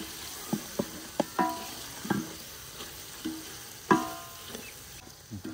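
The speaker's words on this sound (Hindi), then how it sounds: "हरी मिर्च डालने के बाद मज़ीद थोड़ी देर के लिए भून लेंगे" Beef pieces and green chillies frying in a pot for pulao, with scattered stirring knocks and scrapes over a faint, steady sizzle, close and moderately quiet.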